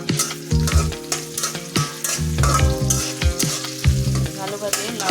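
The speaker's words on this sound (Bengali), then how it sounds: "ভালোভাবে লাল লাল করে ভেজে নেব এটা" Two bay leaves and two whole dried chilies fry in hot oil, a close, crackling sizzle with rhythmic scraping and stirring strokes and occasional metallic knocks of the spatula, and no one speaking.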